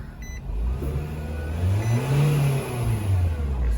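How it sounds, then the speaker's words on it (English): A 2007–2011 Nissan Versa engine, just after an accelerator pedal sensor replacement, idles and then revs up in a sustained rise and fall, close and steady across the whole stretch, with a few faint beeps near the start. "we should be able to turn it on, rev it up"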